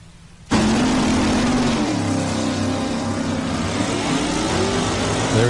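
A drag racing muscle car engine suddenly roars to life and holds a loud, steady rev, pitch shifting as it accelerates away down a quarter-mile track.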